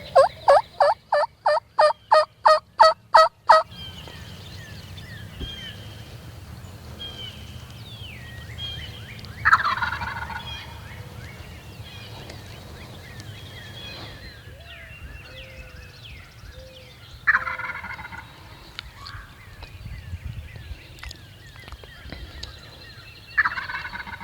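Wild turkey gobbles ring out a few times from a distance during a Tennessee spring turkey hunt. A burst of rapid, rhythmic calling comes first, then separate gobbles break through a steady outdoor background.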